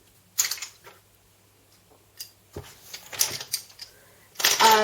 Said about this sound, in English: just going to put my pencils away.